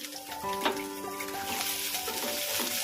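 Grated ginger is stirred in a hot pan for Kashmiri aloo dum, a soft frying crackle with scraping strokes and a faint tonal hum in the background.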